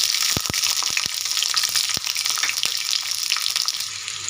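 Green chilli, garlic and onion frying in hot oil in a kadai, the start of a potato and bottle gourd greens stir-fry. The oil gives a steady, close crackling sizzle with several sharp pops early on and no voices.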